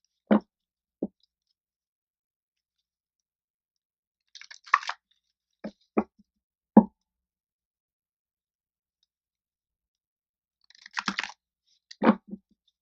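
A deck of tarot cards being shuffled up close: two brief riffling bursts separated by quiet stretches, with scattered single taps and clicks of cards against a table, all soft and with no talking.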